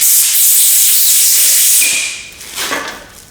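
Compressed air blasts into a bolt hole in an old engine block during a short-block rebuild, a loud sustained hiss that cuts off after nearly two seconds, followed by a softer sputtering burst.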